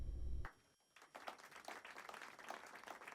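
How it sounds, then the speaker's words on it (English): Faint applause in the Cupid Parasite visual novel game comes in after a low burst and a brief hush, a soft, distant crowd clapping that carries on steadily to the end. "Above us, faint applause signaled the start of the mythological society meeting."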